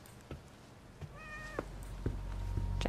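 A cat in the horror game The Medium gives a short, faint meow in a quiet scene, a single rising call amid soft scattered clicks and a low background hum.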